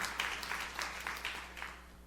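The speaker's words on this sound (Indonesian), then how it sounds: "Tepuk tangan yang meriah untuk kemuliaan Tuhan." Steady, distant applause from a church congregation, a continuous patter of clapping with slight swells throughout.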